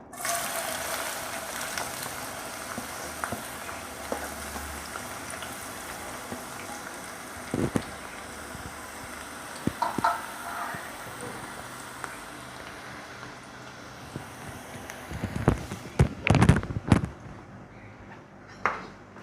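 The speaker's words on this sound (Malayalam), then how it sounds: "പിന്നെ ഇതിലേക്ക് ഞാൻ ചോപ്പ് ചെയ്ത അണിയൻ ഇട്ട് കൊടുക്കാം." Chopped onion frying in hot coconut oil for a spicy chicken curry gives a steady close sizzling hiss with scattered clicks, then a louder cluster of clattering bursts near the end. No one speaks.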